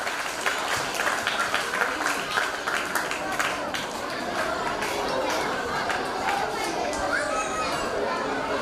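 An audience in a Lutheran church hall claps for a Palm Sunday School prize winner. A burst of scattered applause is followed by crowd chatter and children's voices as the clapping fades.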